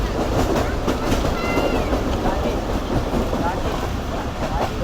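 The Rehman Baba Express runs along the tracks at speed, a loud steady rumble with rattling carriages and faint rhythmic clatter from inside the moving train.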